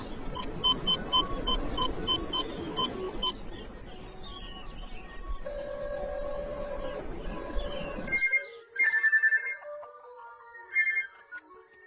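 Electronic telephone ringtone chirping in repeated bursts, first under a dense murmur of background noise, then alone and clearer after the noise cuts out.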